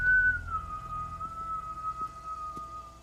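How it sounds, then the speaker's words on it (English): A single sustained whistle in a Walking Dead episode holds one steady note for about three seconds, clear and fairly close over a quiet background. "There's the whistle."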